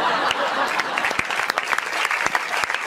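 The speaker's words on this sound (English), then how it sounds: "It's all the clapping" Crowd clapping in an AI-generated video, a dense run of sharp individual claps with a voice faintly present beneath.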